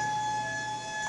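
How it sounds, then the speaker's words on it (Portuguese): A steady siren tone, the siren from Lost, holds continuously at moderate volume, sustained without pause or change through the short moment. "Tô com a sirene."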